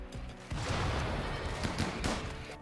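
Rapid bursts of gunfire and minigun fire from a RimWorld colony battle against turrets, dense overlapping shots that swell loudly after a quieter opening and continue in rough clusters.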